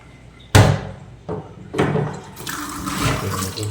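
Filtered water runs into a cooking pot for a mutton lung gravy after a few sharp knocks and clatters, building into a steady rushing pour near the microphone.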